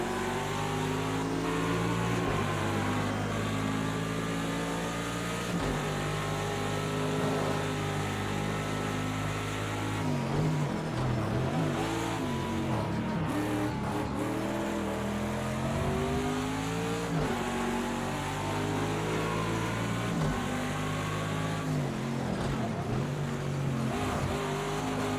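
GTD Pro race car engine in a racing video game set at the Rolex 24 at Daytona, droning steadily and revving up and down through the gears, loud and continuous with no talk.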